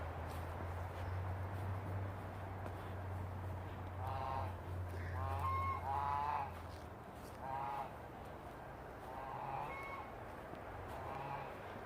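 Geese honk in short bursts from a backyard poultry area where ducks and chickens are also kept, the calls fairly close and repeated over a low steady hum.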